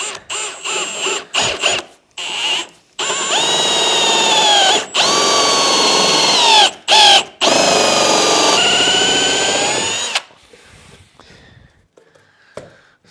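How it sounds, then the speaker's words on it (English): A power drill with a large Forstner bit whines in several bursts as it bores deep into wood, the pitch dipping under load, with short pauses between runs before stopping. "I want to drill with the larger one."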